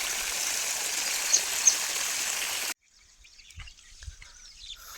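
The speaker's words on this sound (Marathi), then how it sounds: "आलं इकडलं पाणी." Irrigation water gushes into a ratoon sugarcane field in Phaltan, a steady rushing wash that cuts off abruptly after under three seconds, leaving near-quiet with a few faint low thumps.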